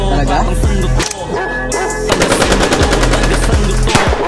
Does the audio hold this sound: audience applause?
no